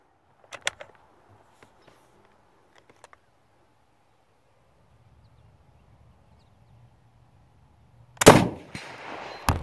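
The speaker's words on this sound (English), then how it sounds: "Gun shoots pretty good for all the years it has on it." An old British Enfield No. 4 Mk3 rifle fires outdoors: a couple of sharp cracks near the start, scattered faint clicks, then a loud close shot late with a short rumbling tail.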